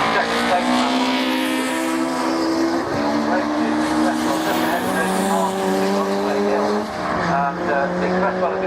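Racing cars at Oulton Park in a sports and saloon championship race, with a Ginetta G50 in the field, roar past loudly and continuously, engine notes rising and shifting as they pass. A commentator talks over them.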